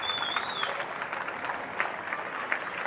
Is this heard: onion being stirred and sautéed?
no